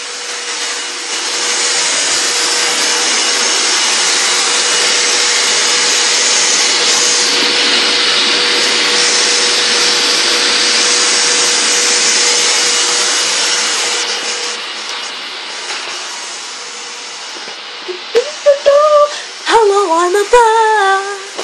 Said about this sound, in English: she's hoovering